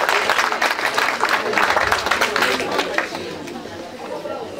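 A crowd at a family celebration claps loudly, with chatter and voices mixed into the sustained applause, which thins a little toward the end.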